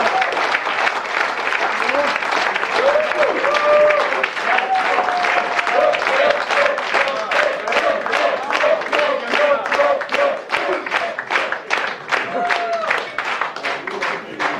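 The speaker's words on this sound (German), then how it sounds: "Er fängt mit einem riesen Applaus." An audience in an old Cologne brewery pub gives a big, sustained round of applause, dense clapping at close range throughout with a few cheers mixed in.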